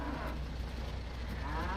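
Cattle on a farm lowing in a long, steady moo that fills the whole stretch, fairly close, with no talking.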